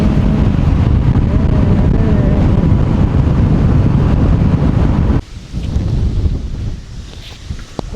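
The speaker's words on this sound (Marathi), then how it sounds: "खूप जोराची हवा सुटलेली" Strong wind roars into the microphone of a moving motorcycle on an open road, loud and steady, then drops abruptly into quieter gusty buffeting.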